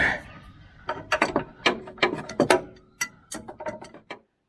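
An adjustable spanner working a stubborn nut during a Superior Super Flex arms install on a Patrol: a run of sharp metallic clicks and scrapes in irregular bursts, close and fairly loud, with no talk.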